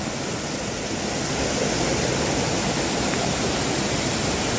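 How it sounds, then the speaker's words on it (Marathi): A small secluded Konkan waterfall swollen by monsoon rain pours in a continuous broadband rush, near and loud, the hiss holding steady from start to finish without any talking. "हे बघा अशा प्रकारे धबधबा असा आहे"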